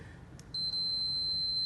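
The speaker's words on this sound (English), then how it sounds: "there will be a beeping sound and there is no resistance" A digital multimeter gives its continuity-test beep: a single steady, high electronic tone that starts suddenly and holds for about a second, clear over faint background hiss.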